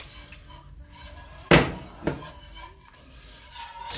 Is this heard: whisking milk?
yes